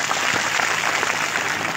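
A large crowd at a political election rally claps loudly and continuously, a dense, steady roar of applause filling the whole moment without pause.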